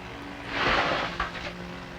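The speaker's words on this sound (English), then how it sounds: "the mower sound in the background" A lawn mower engine drones steadily in the distance, low and fairly faint, swelling briefly louder for a moment before settling back; no one speaks.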